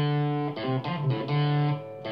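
Electric guitar with distortion playing an intro riff at speed, a run of bright, sustained notes changing every fraction of a second, loud and close with no talking.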